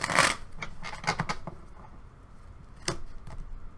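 Quick riffling bursts of cards being shuffled, a loud flurry at the start and a few shorter ones after, close and crisp with no talking.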